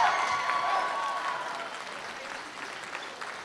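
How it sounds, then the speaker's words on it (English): A gymnasium crowd applauds both high school basketball teams at the HOOPLA 2019 tournament, a steady dense wash of clapping that holds throughout and fades slightly toward the end. "How about a round of applause for both teams?"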